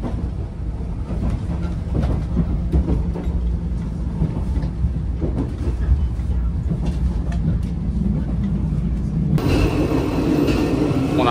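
Steady rumbling of a train rolling along the tracks, heard from inside a carriage of the Japanese 381 series limited express Yakumo, with a constant low drone and a shift in tone near the end.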